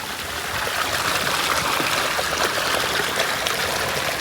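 Strong, fast flow of rainwater rushing along a village channel after heavy rain, a steady loud broadband wash with no pauses, heard close and alone.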